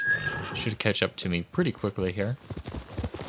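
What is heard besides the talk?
horse galloping up in Ghost of Tsushima video game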